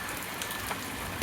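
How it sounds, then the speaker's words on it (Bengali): Light rain falls outside a house at night as a faint, even patter, soft and steady throughout the brief moment. "এখন হলো কম বৃষ্টি হচ্ছে"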